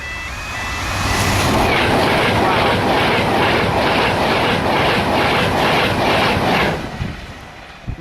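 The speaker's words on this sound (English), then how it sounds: "there's a fast speed train about to pass here" A fast train rushes past a level crossing, a loud sustained roar that rises within a second, holds with rhythmic wheel clatter, then fades away.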